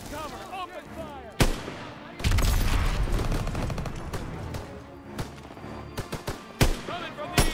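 Heavy gunfire in a Call of Duty WWII battle: loud bursts and single sharp shots crack repeatedly, with a sustained dense barrage in the middle, mixed with soldiers' voices and battle noise.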